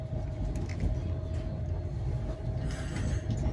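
A train pulls out of Glasgow Central station and is heard from inside. Continuous low mechanical rumble and rattle with a steady hum, moderately loud, and no one speaking.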